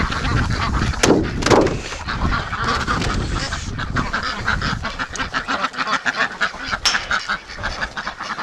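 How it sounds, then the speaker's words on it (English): Several breeding ducks and drakes quack and honk loudly at close range in spring, their calls overlapping in busy bursts with no pauses. "the ducks are really wound out today"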